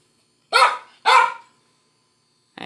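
A dog gives two sharp, loud barks in quick succession, close by, followed by quiet and the start of a third bark at the end.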